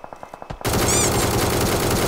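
ACE32 assault rifle gunfire in the PUBG video game. A few short, sharp shots come first, then a loud, sustained burst of rapid automatic fire continues to the end.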